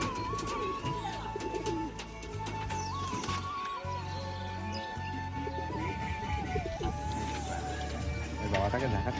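A pigeon from a Shantipur racing-pigeon collection coos amid a busy yard, with steady background noise, a held tone and people talking nearby throughout.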